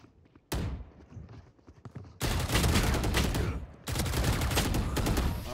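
Gunfire in a Valorant ranked match on the Bind map: a sharp shot, then two long, loud bursts of rapid automatic fire that sound close, with quieter scuffs and thuds in between.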